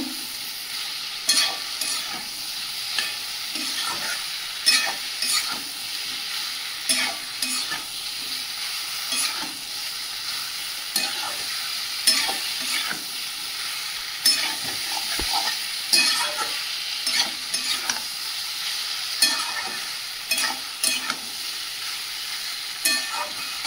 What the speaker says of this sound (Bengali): ভেজে রাখা আলু আর এঁচোড়টা দিয়ে দেব। দিয়ে ভালো করে কষিয়ে নেব।